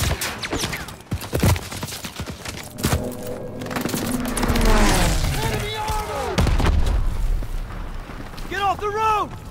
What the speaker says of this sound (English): You guys hear that? It's headed this way. Stukas, inbound.